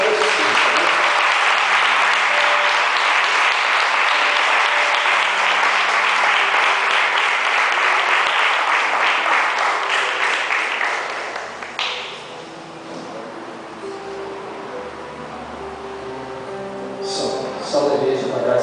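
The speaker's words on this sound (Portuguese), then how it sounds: "Vamos receber o nosso amado pastor Marcelo com uma linda salva de palmas." A church congregation gives a long, loud round of applause to welcome the pastor, dense clapping for about eleven seconds that then dies down into quieter room sound with scattered taps and faint voices.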